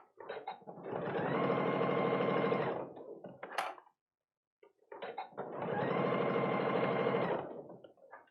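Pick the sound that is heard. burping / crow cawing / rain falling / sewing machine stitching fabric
sewing machine stitching fabric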